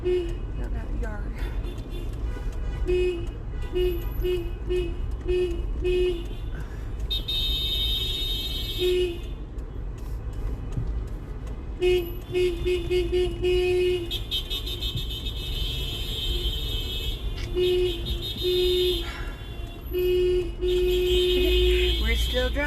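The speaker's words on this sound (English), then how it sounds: "We're still driving, we're still honking." A car horn honks in repeated short beeps and a few longer blasts while the car is driving, sounding fairly close over steady road and engine noise.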